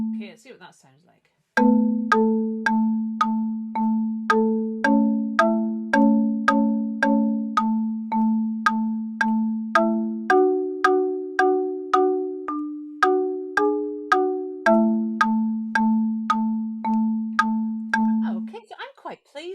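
Plinky electronic notes in Songmaker, playing a simplified melody with a bass note, a steady beat of short bell-like tones for about seventeen seconds, with no talking.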